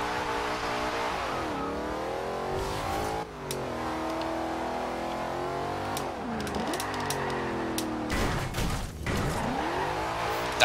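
A car drifts across a rough road in Forza Horizon 2, its engine revving and sweeping up and down in pitch through repeated slides, loud and close, with a brief dip midway and a sharp surge near the end.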